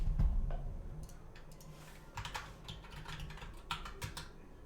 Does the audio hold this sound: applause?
no